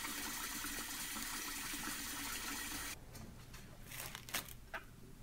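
Rice being washed in water for makgeolli, a steady loud rush of running water that stops abruptly midway, followed by quieter splashing and sloshing of grains being stirred by hand.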